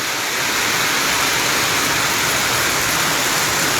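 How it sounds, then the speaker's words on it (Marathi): Torrential rain pours down on a town street in Bhoom, a loud, dense, unbroken roar of falling water. "भूमशारात शहरात अतिशय मुसळधार असा पाऊस पडतो आहे"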